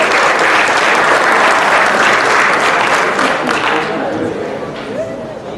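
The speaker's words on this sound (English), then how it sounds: "I'd like to give one more round of applause to this group of young people." Loud, sustained applause from a crowd at a high school football banquet for the Bacon County Red Raiders, dense steady clapping that gradually thins and fades toward the end.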